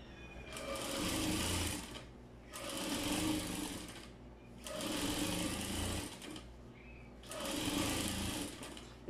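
A sewing machine stitches a hem along fabric for a nightgown in four separate bursts of rapid, close mechanical whirring, with short pauses between them.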